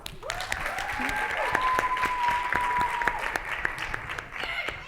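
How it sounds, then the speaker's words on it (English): Scattered clapping from a modest audience, with a faint high tone running beneath; irregular claps continue steadily at moderate volume. "Can you please give her a round of applause?"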